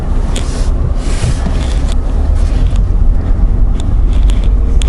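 A 2019 Ford Ranger Lariat pickup with a four-cylinder engine drives along, a loud steady low rumble of engine and road noise with wind hiss and a few faint clicks inside the cab.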